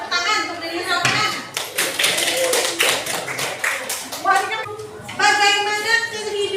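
Students in a classroom clap for themselves, a burst of hand claps and taps mixed with children's voices, with a teacher's speech before and after the clapping.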